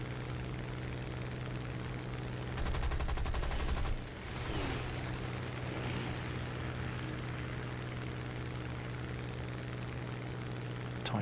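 Aircraft machine guns in War Thunder, a fighter armed with twelve guns, blast in one dense burst of about a second and a half over a steady propeller engine drone.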